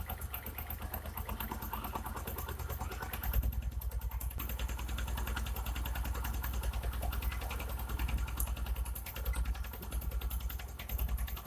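A motorcycle engine idles steadily nearby while its idle screw is turned to raise the RPM, with an even, rapid mechanical putter that runs throughout with little change.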